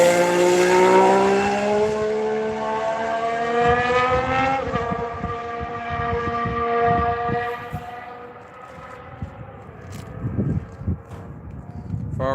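A Ferrari Formula 1 car driven by Charles Leclerc heads out on track, its loud high engine tone climbing through gears then fading into the distance as quieter track noise and knocks take over.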